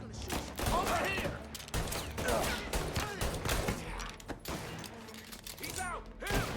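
A gunfight in the video game Mafia, dense rapid gunfire and bursts of shots with thuds, while a person talks over the action.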